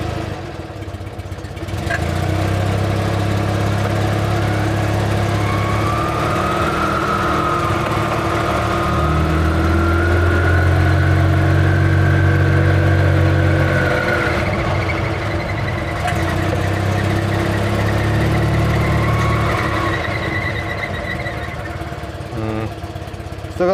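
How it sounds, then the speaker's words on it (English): An Invacar invalid carriage engine runs steadily with its CVT belt squealing, a loud close mechanical drone with a thin rising and falling whine on top, with no talk. "Still got some squealing going on there, so I think I'll have to have another play with the tension."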